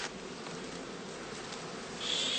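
Honey bees hum and buzz around a heather skep hive at a summer migratory stand, a soft continuous drone of many insects, with one louder buzz passing close near the end.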